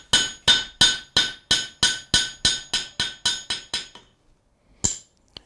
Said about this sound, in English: I'll throw in my cutting hardy real quick and trim her off.